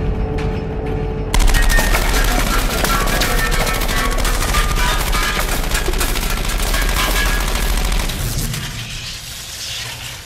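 Gunfire from a film scene where the gears are shot, erupting after a quieter opening into a dense, continuous roar of rapid shots and booms that stays loud before easing slightly at the end.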